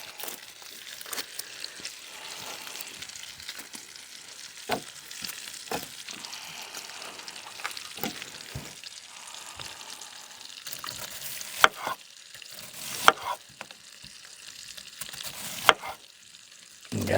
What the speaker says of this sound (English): That bacon smells good.